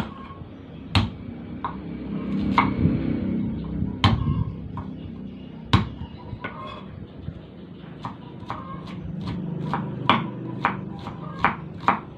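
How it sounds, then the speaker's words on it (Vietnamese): A knife crushes and chops two purple shallots on a board while preparing stir-fried snails with lemongrass and chili: sharp, irregular close-up whacks and taps, quickening into a run of rapid chops near the end over a low room hum. "mình chuẩn bị hai củ hành tím nè mình sẽ đập dập và cắt nhỏ"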